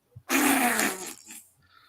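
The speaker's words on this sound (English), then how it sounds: "You may now fart on the bride." A loud, drawn-out fart of about a second and a half, rough and buzzy, fading into a short tail before quiet, heard alone without speech.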